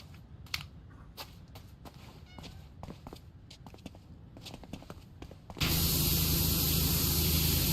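A pressure washer in PowerWash Simulator bursts into a loud, steady hissing spray near the end, after a stretch of quieter clicks and short taps.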